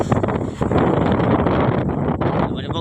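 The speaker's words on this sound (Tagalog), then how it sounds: "malakas na po yung hangin" Strong storm wind roars and rumbles against the microphone in a continuous, heavy rush, with a voice faintly mixed in.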